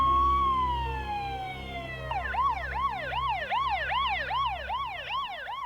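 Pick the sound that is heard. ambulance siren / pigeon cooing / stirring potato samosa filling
ambulance siren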